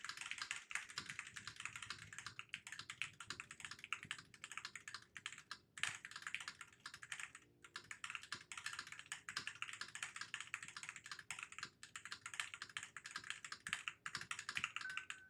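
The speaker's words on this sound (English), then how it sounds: "turns out I can't talk and type at the same time" Steady, fast typing on a computer keyboard close by, dense clattering keystrokes running almost without pause and only brief gaps, no talking.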